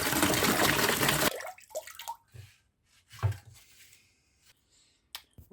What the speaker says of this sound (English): I've given the tank a good rinse out